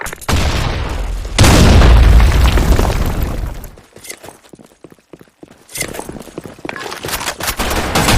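A grenade blows up in a first-person shooter game on a sand storm map, a loud heavy boom that rumbles for a couple of seconds, followed by scattered sharp gunfire cracks and clatter.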